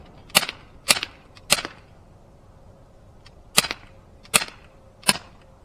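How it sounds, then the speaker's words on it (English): A Glock 19 CO2 air pistol fires pellets in six sharp, snappy cracks, three in quick succession, a pause, then three more, each crisp and close with quiet gaps between. "Still gonna run this thing dry, see how many shots we can get."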